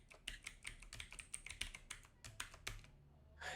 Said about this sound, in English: To type my password again.